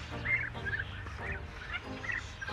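Turkeys, including a tom and hens, gobble in a farmyard, a few rapid warbling calls repeating at close range over a low background rumble.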